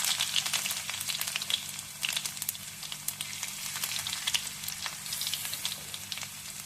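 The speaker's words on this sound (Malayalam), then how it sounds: "ഇനി അതിൻ്റെ തൊട്ട് നമുക്ക് വെളുത്തുള്ളി ചെറുതായിട്ട് അരിഞ്ഞിടാം." Chopped garlic frying in hot oil with cumin and dried chilli for a dal curry, a steady close crackling sizzle with bright spitting pops throughout, no talking.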